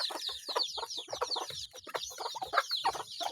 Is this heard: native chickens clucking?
yes